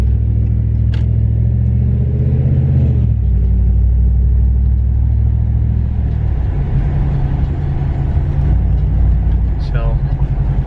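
A Hemi 5.7L V8 car cruising through town with a loud exhaust produces a steady, deep low rumble that stays continuous and close throughout. The engine shifts slightly in pitch partway through, and a voice talks over it.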